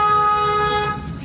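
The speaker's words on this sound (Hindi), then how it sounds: "हॉर्न दो" An Alto car horn sounds one sustained honk up close in a narrow lane, loud and steady, tapering slightly at the end.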